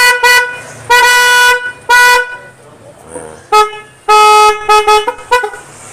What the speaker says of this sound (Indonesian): Klaksonnya tot ini bunyinya.